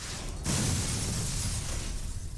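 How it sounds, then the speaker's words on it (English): Layered explosion effect from The Incredible Hulk: Ultimate Destruction, a sudden loud burst with shattering glass and debris that starts after a short quiet lead-in and keeps roaring and crackling to the end. "When you hear an explosion, that might be a layer of fire, of glass, of metal"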